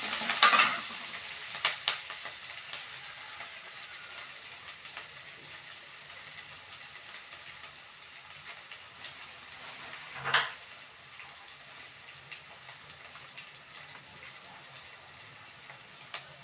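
Curry leaves dropped into hot oil for carrot poriyal crackle in a sharp burst at the start, then settle into a quiet steady sizzle, with another brief crackling flare partway through and no voices.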